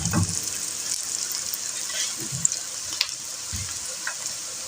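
Spices and whole dried red chilies fry in a pot with a steady, soft hiss, broken by a few low thumps and scrapes of stirring.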